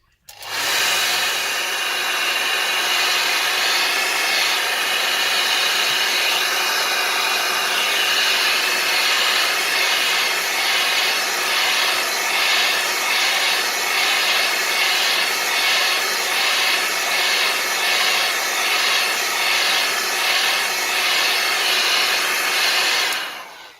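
A hair dryer blows hot air steadily and loudly to heat an LG K3 phone's screen so it can be opened for a digitizer replacement, a continuous close whooshing whine with no talk.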